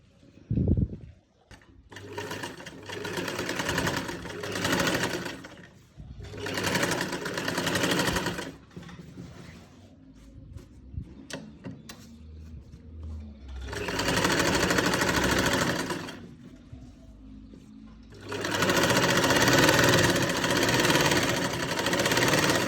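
Sewing machine stitching a collar along buckram, a rapid mechanical whirr running in several bursts separated by quiet pauses, close and steady with no talking.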